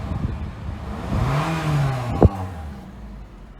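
Toyota Corolla LE, 2017, with a 1.8 liter 132 horsepower dual VVT-i four-cylinder, given one short rev that rises and falls in pitch over a quiet idle, ending with a brief sharp click.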